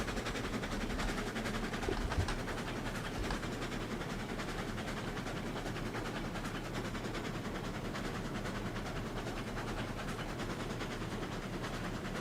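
A train rolls along rails in the video game Railroads Online, hauling flat cars with a continuous low rumble and faint rhythmic clatter throughout.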